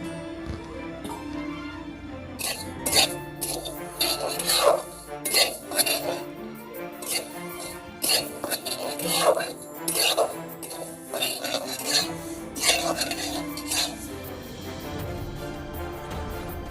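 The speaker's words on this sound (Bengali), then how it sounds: "প্রথমে মুগের ডালটা আমি ভেজে নেব।" Moong dal being dry-fried in a pan while a spatula stirs it, making irregular metallic clinks and scrapes in bursts, close by and without speech.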